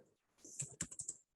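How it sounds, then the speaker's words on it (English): A quick burst of keystrokes on a computer keyboard, close and fairly quiet, with several distinct taps clustered in about a second and no speech. "I'm going to type Adobe Illustrator"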